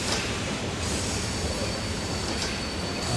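A train in the railway game Transport Fever 2 rolls on steadily with a dense, continuous rumble and rail noise, loud and close, with brief wheel squeals and no voices.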